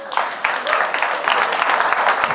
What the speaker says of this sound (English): please a warm round of applause for José González.